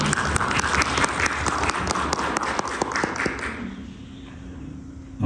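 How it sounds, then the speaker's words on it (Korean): Korean church congregation clapping during a Sunday service to welcome newly elected officers; brisk, close applause with distinct individual claps that fades out after about three and a half seconds, leaving quiet room tone. "이분들 열심히 일하라고 이런 박수 보내주시면 감사합니다."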